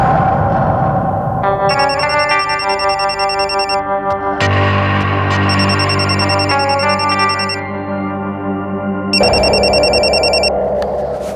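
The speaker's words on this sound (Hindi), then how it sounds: "मेरे कुछ नोट्स थे जावेद के पास, मैंने इसीलिए फोन किया था उसे।" A telephone rings in a Mumbai crime drama with a loud, distorted electronic ringtone. Repeating bursts of bright, layered tones start and stop over several seconds.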